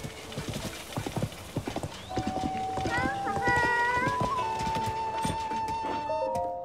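Hooves of a horse ridden in Zelda: Tears of the Kingdom clip-clop rapidly at a gallop, soon joined by sustained game music tones while a person talks over it.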